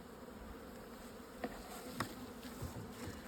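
Bees buzz steadily around a summer split hive in sunshine, a busy insect hum with a few louder individual bees passing close.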